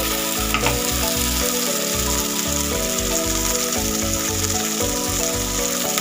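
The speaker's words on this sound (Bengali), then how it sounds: "বন্ধুরা ভাজা ভাজা হয়ে গেছে" Ingredients for a sea fish recipe fry in a pan, a loud, steady sizzle and crackle with occasional stirring that runs through the whole clip, with no talking.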